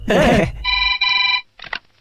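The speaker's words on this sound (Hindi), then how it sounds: "सूर्या के घर पर फोन किया" A telephone rings loudly and close by, giving one sustained electronic ring and then the start of another short burst after a brief gap. A loud thump or voice comes just before the ring.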